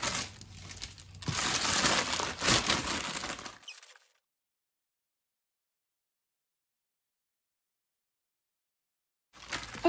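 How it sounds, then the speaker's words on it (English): Baking paper crinkles loudly and close while a hot date roll with nuts and dried fruit is shaped by hand. The crinkling lasts about four seconds, then silence, then a brief return at the very end. "try to form it with a baking paper"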